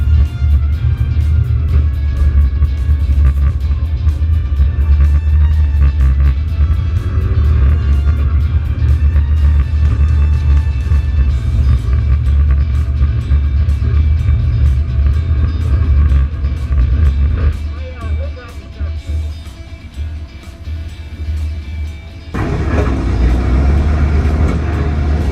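Cars roaring through a nighttime skid plate race, a loud continuous engine rumble with heavy low-end drone that dips briefly before surging back, no voices.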